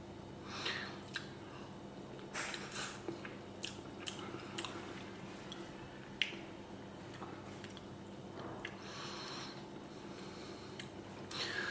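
Someone eating deviled eggs seasoned with mustard, mayonnaise and paprika, giving faint close-up soft chewing and squishing sounds with occasional small clicks, quiet and without talk.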